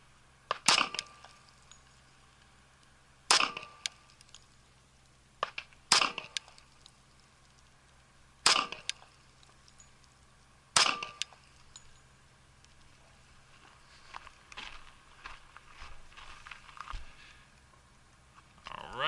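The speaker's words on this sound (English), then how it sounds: "this will be the Hornady Critical Duty 175 grain flex lock from the Glock 20 standard factory barrel" A Glock 20 with its standard factory barrel fires 10mm Hornady Critical Duty 175-grain FlexLock rounds. Five or six sharp, close reports come several seconds apart, followed by smaller clatter.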